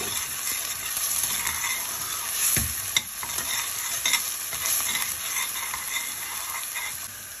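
Ginger-garlic is stirred into onions frying in oil for a chicken salan, giving a steady close sizzle with scraping stir strokes and a few sharp utensil knocks, and no talking.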